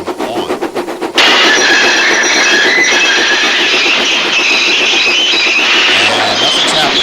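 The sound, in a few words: train running in a video game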